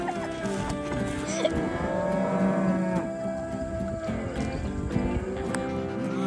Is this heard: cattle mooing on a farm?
yes